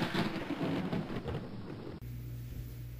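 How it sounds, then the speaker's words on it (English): Thunder rumbles through a storm with steady rain, the low roll shifting at the midpoint into a deeper, sustained rumble under continuous rainfall. "and thunder was heard"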